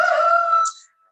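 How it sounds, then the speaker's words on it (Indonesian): A rooster crows once in a home during a talk, the call loud and near with a rising, strained ending, then fading into silence. "saya mohon maaf ada suara ayam di sini"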